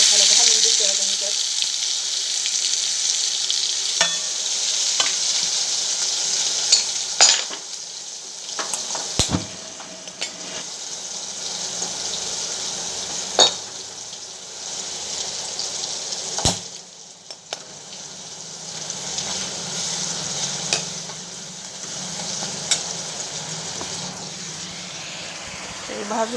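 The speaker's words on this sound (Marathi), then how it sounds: "व्यवस्थित तेल तापले. गोडा मसाला घालून देते आता ह्याच्यात." Goda masala fries in hot oil in a pan on lowered heat, a steady bright sizzle that runs throughout, loud and close, with occasional clinks of a spoon against the pan.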